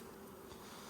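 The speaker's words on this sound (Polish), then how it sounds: "O, a tutaj mamy pszczółki." Honey bees buzzing at an open hive while frames are inspected, a steady dense drone filling the short moment without voices.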